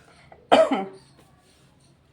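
A single short, harsh cough sounds up close in a quiet room, followed by silence and the start of another cough or voice.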